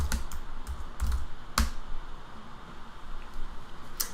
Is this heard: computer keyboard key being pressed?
yes